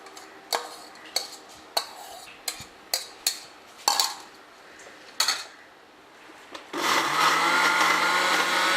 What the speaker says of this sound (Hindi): आम को अच्छी तरह ग्राइंड कर लें